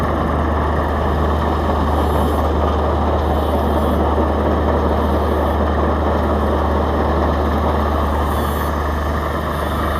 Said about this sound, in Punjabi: ਮਿੱਤਰੋ ਮਸ਼ੀਨ ਚੱਲ ਪਈ